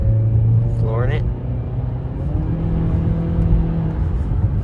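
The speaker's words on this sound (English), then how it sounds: "Engine has a very nice sound to it, and it was pretty quick." A 2023 Honda Accord accelerates at full throttle, its engine giving a steady, rising hum and road rumble heard from inside the cabin while someone talks throughout.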